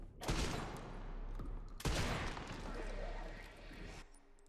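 Two heavy bursts of gunfire in the video game Resident Evil Requiem, each a loud sharp blast followed by a rumbling tail, close and dominant.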